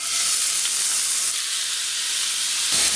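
Marinated chicken, coated in soy and chilli sauce, sizzles in hot oil in a pan. The frying hiss is loud, steady and close for the whole stretch, with no voices.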